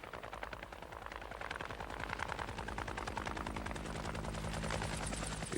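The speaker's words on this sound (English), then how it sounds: "Who'd want to meet a helicopter gunship leaping up before him?" A helicopter gunship flies close by, its rotor beating in a fast, steady chop over a loud, continuous engine roar that holds at a constant level throughout.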